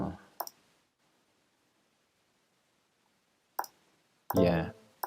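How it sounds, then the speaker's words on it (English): Mouse clicks while recording chords in a chord player program: a couple of crisp clicks, then a pause and another click pair with a brief thump, all close and dry. "I'm going to click record and click A minor G."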